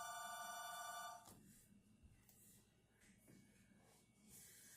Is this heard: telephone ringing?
yes